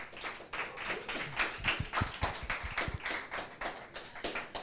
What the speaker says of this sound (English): let's give all of the nominees a big round of applause for their efforts